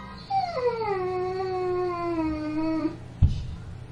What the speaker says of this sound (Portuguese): Is that a dog crying in the background?